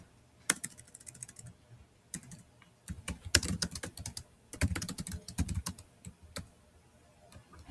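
Clicky computer keyboard typing a comment, irregular bursts of quick keystrokes with short pauses between words, close and fairly quiet, with no talking.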